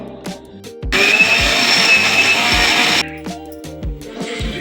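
A mixer grinder whirs loudly for about two seconds, grinding hibiscus and henna leaves with oil, between clunks and taps of the jar before and after.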